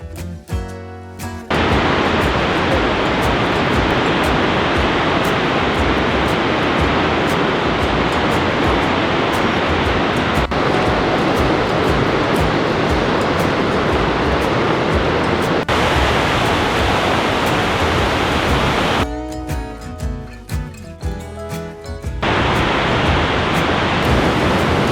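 Gullfoss waterfall in Iceland roars as a loud, continuous broadband rush of falling water, steady throughout with only brief interruptions at the start and near the end.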